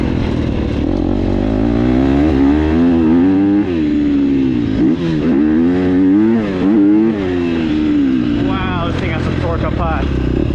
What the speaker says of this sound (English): I'm here to just give this bike a good shakedown.